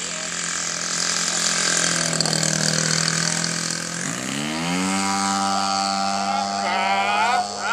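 Radio-controlled model airplane engine buzzing loudly overhead, a high-pitched two-stroke whine that drops in pitch and then climbs again as the plane passes and throttles up, with faint voices underneath.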